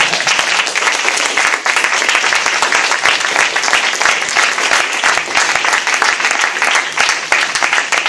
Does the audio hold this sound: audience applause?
yes